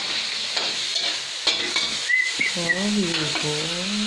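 Butter garlic shrimp fry in a pan with a steady bright sizzle, stirred now and then. Several thin whistling tones rise and fall over the frying near the end.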